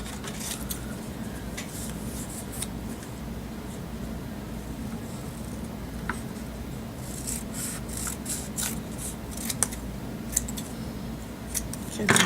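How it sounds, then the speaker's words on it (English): Scissors snip and slice through cardstock in a steady series of crisp cuts, close and fairly quiet, with no talking. "So I'll just use my scissors and cut a piece."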